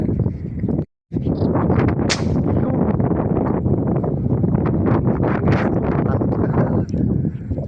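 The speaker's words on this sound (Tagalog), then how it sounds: "Grabe na, mahangin na." Strong gusting wind buffets the microphone with a loud, continuous roar and rumble, briefly cutting out near the start.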